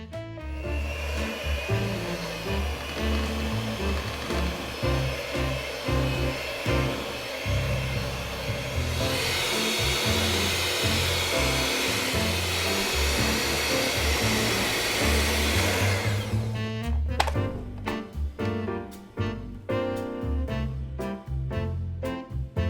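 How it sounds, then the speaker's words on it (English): An electric mixer blends egg whites into cake batter with a steady whirring drone that grows brighter partway through, then stops and gives way to clattering knocks. "Now I'm just going to add in the egg whites and we're going to blend this together for 2 minutes."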